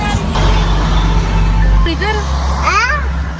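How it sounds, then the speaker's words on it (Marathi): Steady low engine rumble and road noise from a car being driven on a family trip to the Morve temple for Datta Jayanti, loud and continuous throughout, with people talking and brief high-pitched voices over it. "चला गाईज, आता मी चालवणार गाडी,"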